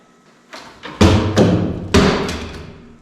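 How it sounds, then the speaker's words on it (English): An object tossed over the rafters lands on a scaffold with a few sharp thuds and clatters, the loudest impacts around the middle, then a ringing decay in a quiet room. "I'm going to toss this over the rafters onto my scaffold and hope that it lands where I want it to"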